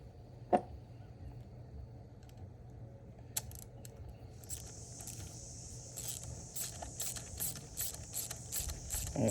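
A ratchet snugs a 13 millimeter bolt on a Mercury Optimax outboard motor, giving quick runs of light metallic clicking in bursts over a low background hum, with a couple of faint knocks and no speech.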